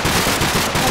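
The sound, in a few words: explosion in Minecraft video game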